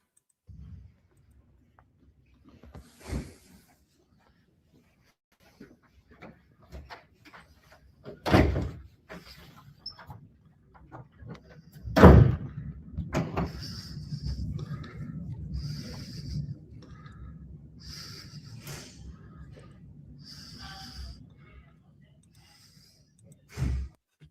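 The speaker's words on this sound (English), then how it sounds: "The heavy breathing while standing in one place." Heavy breathing from a person standing in one place: irregular sighs, snorts and gasping breaths in a quiet room, broken by several sharp knocks and a loud bang partway through.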